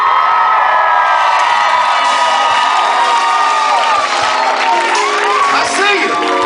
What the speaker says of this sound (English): So please give a warm round of applause for my brother, Mr. Darian Brockington, y'all.